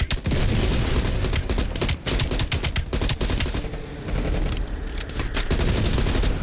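Anti-aircraft guns firing in a military shooter video game, loud sustained rapid bursts with heavy booms that run nearly continuously at close range and no talk.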